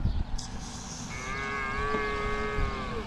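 A cow moos once, close and loud, outdoors in the desert near the Valley of the Kings in Egypt, a long low bellow rising into a steady drawn-out call.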